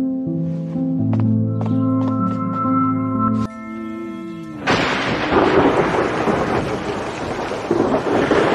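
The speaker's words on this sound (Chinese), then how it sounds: "当时好像有雷声，下着大雨" Sharp thunder crack breaks in after a stretch of musical tones, followed by a loud, continuous wash of heavy rainfall that fills the rest of the clip.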